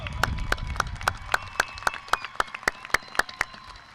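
A graduation crowd at Memorial High School applauds the graduating students, a soft distant wash of clapping with a few sharp, regular beats cutting through it.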